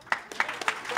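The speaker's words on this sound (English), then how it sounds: "A big round of applause for the sound folks back here." A few distinct handclaps from the audience at a bluegrass show ring out in quick, uneven succession, close and moderately loud, over roughly a second.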